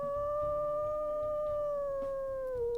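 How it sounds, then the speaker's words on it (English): A female wolf howls in the WolfQuest video game, one long sustained tonal howl that slowly falls in pitch at the end, loud and alone over a soft low background. "We'll go ahead and we'll listen to her howls here."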